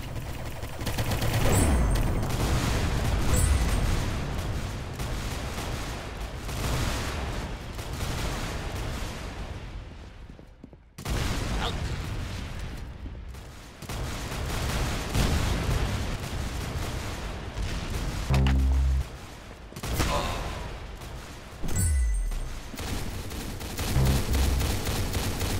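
Gunfire in the video game Arsenal, with dense bursts of shots and rapid fusillades rattling almost nonstop, broken by a few brief gaps and heavier booming hits.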